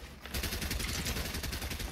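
Rapid gunfire in a Fortnite wager match: a dense, loud run of shots in quick, fairly even rhythm that starts abruptly and carries on without a break to the end.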